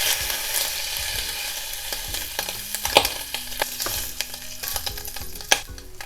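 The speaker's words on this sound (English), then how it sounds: "I just like to cook the ham because it's going to give a little smoky flavor to it" Ham fries in a pan with a continuous crackling sizzle, broken by irregular clicks and scrapes as it is stirred and turned.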